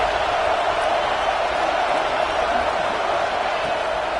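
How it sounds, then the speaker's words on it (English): A stadium crowd at a Georgia versus Ohio State college football game roars in a dense, unbroken wall of noise, loud and sustained throughout. "Listen to this crowd just shaking the girders of this place"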